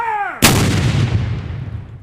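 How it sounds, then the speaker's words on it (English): A single loud, close boom from a Civil War era cannon fired at a cool, overcast Memorial Day ceremony at a Chicago cemetery, with a sharp crack that rolls off into a long decaying rumble, preceded by a short tonal sweep. "With the blast of a Civil War era cannon on this cool, overcast Memorial Day"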